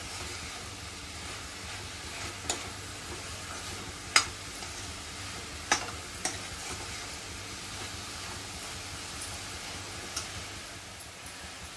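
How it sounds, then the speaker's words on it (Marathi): Jaggery and grated coconut modak filling is stirred in a pan, giving a soft, even low hiss with occasional sharp spoon taps and scrapes, quiet and close, with no voices. "आता आपला गूळ 2 मिनिटांनी चांगला मिक्स झालेला आहे खोबऱ्यामध्ये"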